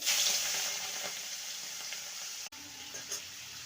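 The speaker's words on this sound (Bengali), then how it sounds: "তেলটা ভালো মতন গরম হয়ে গেছে, এবার মাছগুলো ছেড়ে দেবো।" Shrimp frying in hot oil for a green tomato and shrimp dish, with a steady close sizzle that briefly cuts out midway, then continues with light spatula scrapes.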